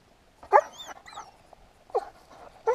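A drahthaar hunting dog whimpers in three short, high whines spaced about a second apart, close by in an otherwise quiet early-morning field.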